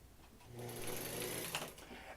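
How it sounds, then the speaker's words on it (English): A Singer 99k sewing machine runs steadily while winding a bobbin, with the needle mechanism disengaged, giving a close, continuous whirring hum that holds for about a second and a half before easing off. "the bobbin winder spins and spins like it's supposed to, but the needle doesn't go up and down"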